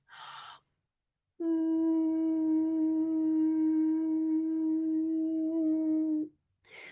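A single sustained falsetto head-voice note held steadily for about five seconds, light and airy, sung alone after brief breaths, as a vocal exercise demonstration.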